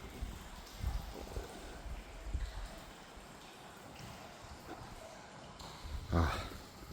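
Rainwater runs and splashes into the top of a brown water tank during rain, a steady close trickling and gurgling wash with a brief louder gush near the end.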